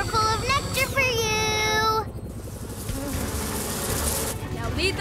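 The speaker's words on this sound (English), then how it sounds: "Oh, bees! I have a nice flower full of nectar for you." Buzzing bees in a PAW Patrol cartoon, a busy insect drone that carries under bright musical tones and then continues steadily on its own.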